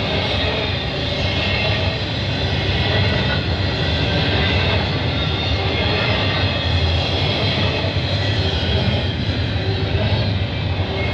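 A CN freight train rushes past at speed through a snowy night at Burlington West, a loud, continuous rumble and roar of wheels and cars filling the whole stretch without letup.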